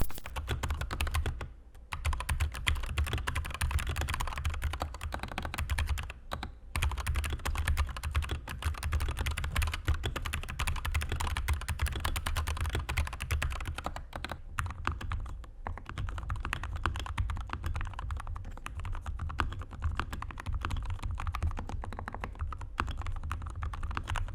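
Fast, continuous typing on a SteelSeries Apex 9 gaming keyboard with optical switches, dense clicking keystrokes heard close up with no speech.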